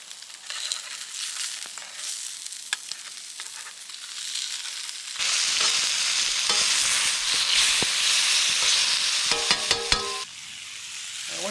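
Fish fritter balls fry in a hot pan over an open fire, a steady broadband sizzle that swells louder midway, with a few sharp clinks and scrapes near the end and no talking.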